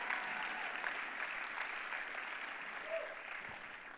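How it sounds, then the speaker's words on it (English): A church audience applauds, faint and even clapping from the congregation that holds steady before slowly fading. "You ought to clap louder than that."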